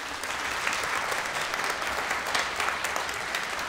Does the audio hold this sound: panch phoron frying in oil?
no